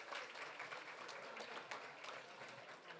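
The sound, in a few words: audience applause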